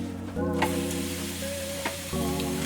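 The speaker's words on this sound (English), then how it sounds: "Random sizzle." Grilled cheese with turkey sizzles and fries in a pan, a steady close crackle with a few brief clinks and shifts of the pan, no talking.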